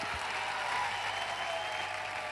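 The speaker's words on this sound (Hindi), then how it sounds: "मैं चाहूंगा कि परिमल सर के लिए एक जबरदस्त तालियां जरूर होनी चाहिए।" Sustained applause from a crowd at a motivational stage event, honouring Parimal sir, steady and dense for the whole stretch, with no voices on top.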